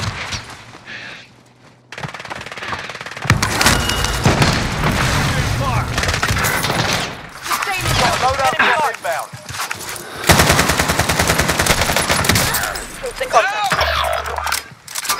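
Gunfire in Call of Duty: Modern Warfare: loud, dense bursts of automatic rifle fire and shots that rattle on and off for most of the stretch, with short lulls, voices talking over the fighting.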